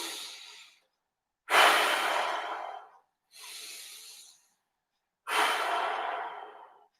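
Deep, slow breaths in and out during an exercise, four long airy strokes alternating inhale and exhale, close and clear with silent gaps between, no talking.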